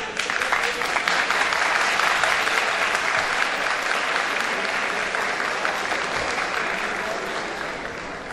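Audience at a high school spring concert in Menemen applauding steadily, a dense wash of clapping that stays loud throughout and eases slightly toward the end.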